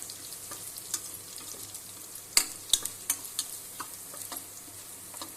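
Garlic, black pepper, chilli and curry leaves sizzle steadily in hot oil, with sharp clicks and scrapes as a spoon stirs the pan.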